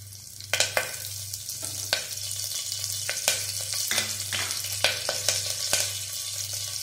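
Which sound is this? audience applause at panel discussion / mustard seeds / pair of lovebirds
mustard seeds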